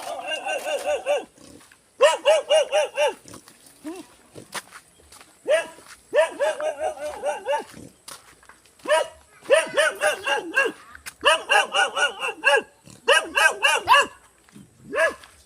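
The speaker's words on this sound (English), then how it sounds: "There's normally quite a lot of dangerous dogs." Several dogs bark repeatedly outdoors near a shooting range in Cansilyan, Philippines, loud bursts of rapid barking coming in clusters with short pauses between them.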